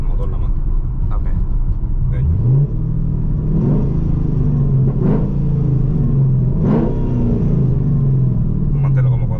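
The engine of a 5th-generation Chevrolet Camaro SS, which has a violent shaking fault, revs and climbs in repeated pulls, a loud close rumbling drone that rises and falls while people talk over it.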